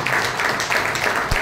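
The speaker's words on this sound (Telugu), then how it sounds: "బిగ్ క్లాప్స్ అండి" An audience at a health awareness program bursts into dense, steady applause that is close and loud and lasts only a moment.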